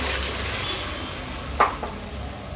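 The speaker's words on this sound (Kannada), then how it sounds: "ಕಲಸಿ ಇಟ್ಕೊಂಡ ಕಾರ್ನ್ಫ್ಲೋರ್ ನೀರನ್ನು ಸೇರಿಸ್ಕೊಳ್ತಾ ಇದ್ದೀನಿ" Cornflour water poured into a sizzling chilli chicken sauce in a pan, giving a steady, fairly loud frying hiss with a short sharp splash partway through and a smaller one after it.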